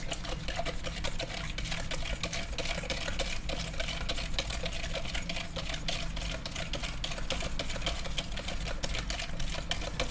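Salt is stirred into a sunomono vinegar dressing with a rapid, steady clicking and swishing that runs without a break, close to the listener and with no talking.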